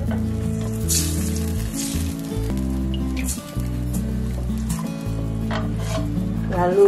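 Spiced broth base for Jakarta-style chicken porridge, browned in a pan, keeps sizzling and frying steadily as water is poured in and stirred. Music plays under it throughout.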